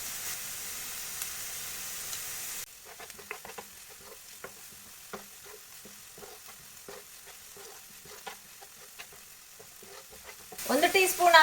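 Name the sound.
onions frying in a pan with salt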